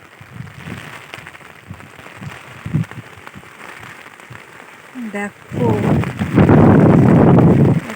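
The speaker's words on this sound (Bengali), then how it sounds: "প্রচণ্ড বাতাস, তার মধ্যে বৃষ্টি" Strong wind with rain beside the Shimlapal river during heavy monsoon weather. Gusty wind buffets the microphone under a rush of rain that grows much louder in the second half. A voice talks briefly early on.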